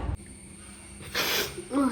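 A single sharp sneeze from someone down with a fever and cold, breathy and close, bursting out after a quiet stretch and followed by a short voiced exhale.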